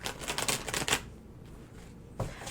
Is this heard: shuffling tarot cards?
yes